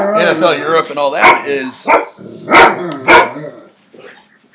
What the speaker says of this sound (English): my dog's going nuts here.